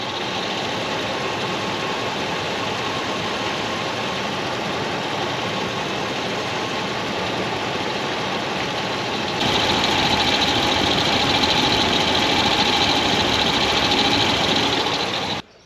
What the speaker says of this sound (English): There's a very slight noise. I don't know if you can pick it up on camera, but it's this car steering pump.